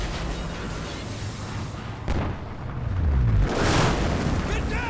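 A massive explosion blows up an oil rig in the video game Call of Duty: Ghosts, a deep rumbling blast swelling over a dense, noisy battle soundscape with no voices.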